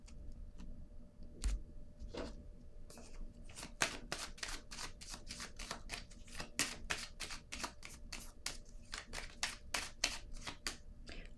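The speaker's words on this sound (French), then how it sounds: "je vais piger une autre carte" Playing cards flick and tap rapidly in a long run of crisp, evenly spaced clicks as a card is drawn from the deck, close up with no talking.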